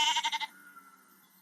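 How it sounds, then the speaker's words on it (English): A single sheep bleat in the Irish countryside, a short wavering call with a quavering pulse that fades quickly, heard alone and fairly close. "In the countryside, you can see miles and miles of rolling green hills. Sheep graze on the green grass."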